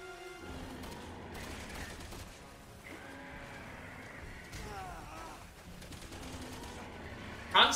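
Bursts of gunfire from Chris in Resident Evil 6 during an airship boss fight against a serpent creature, repeated shots over a rumbling, busy game soundscape with a loud burst at the end.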